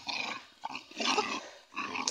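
A dog growls low and rumbling while playing with a ball, in three rough bursts with brief breaks between them, fairly close and with no talking over it.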